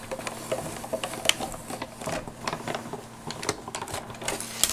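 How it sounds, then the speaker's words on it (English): A die cut machine runs cardstock through an embossing folder, making a steady mechanical whirring with rapid clicking and ticking textures, close and moderately loud throughout. "just run it through my die cut machine"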